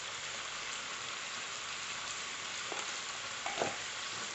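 Potatoes fry in a pan with salt, turmeric and chili powder, making a soft, steady sizzle with a couple of faint scrapes of stirring near the end; no one speaks.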